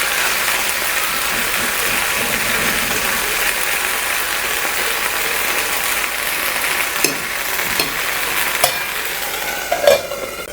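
Aloo paratha fries on a hot pan with a steady, close sizzle. A few sharp clicks and clatters of utensils come near the end.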